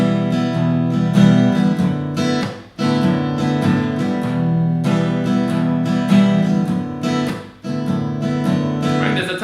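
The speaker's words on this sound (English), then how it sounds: "If I was to put in the shuffle rhythm now, you'd hear the difference. It sounds like this." Close acoustic guitar strummed in a swinging shuffle rhythm over two chords, with a steady groove broken by short gaps at chord changes and no talking.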